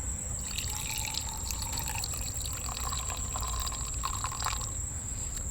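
Chilled tea poured into a glass of ice cubes makes a soft, steady trickling splash with faint droplet clinks over a constant background hum, close up and without voices.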